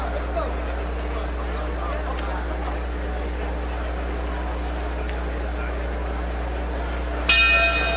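A boxing bell rings once near the end, marking the start of round 3 in a Floyd Mayweather versus Larry O'Shields bout, a bright clang rising over steady arena crowd murmur.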